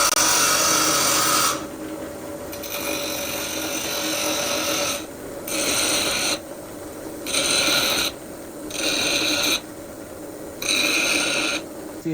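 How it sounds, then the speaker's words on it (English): A grinder works a seized Yanmar turbo part flat in a workshop, coming in as several loud bursts of grinding with short pauses between, over a steady mechanical background. "I'm gonna use the grinder, grind this flat a little bit so I can get her on and see if I can break the seal"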